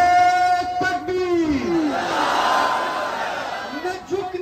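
Crowd at the Panjpir Ijtima 2022 religious gathering chanting slogans in response, a loud massed shout swelling and sustained over several seconds, with a lead voice calling before and after.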